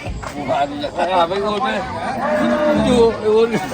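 Water buffalo at a livestock market in Phang Khon, Sakon Nakhon, Thailand, lowing in several drawn-out moos amid a busy crowd, with someone talking over the animals close by.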